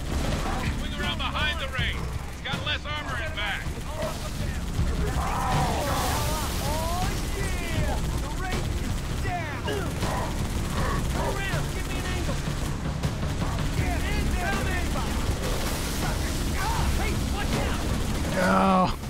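Sustained gunfire aimed at a Ghost vehicle in Halo 3 ODST, busy bursts of shooting mixed with chirping, whooshing weapon effects and battle noise, loud throughout.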